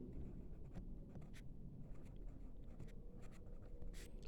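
Marker or chalk writing on a classroom board, a quiet series of short scratchy strokes and taps with small pauses between them, close and faint, with no one speaking.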